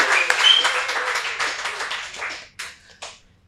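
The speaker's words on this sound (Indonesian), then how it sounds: "Tepuk tangan untuk Bernat." A crowd at an Indonesian Olympic Committee event claps in dense applause that fades out over a few seconds, ending with a couple of scattered last claps.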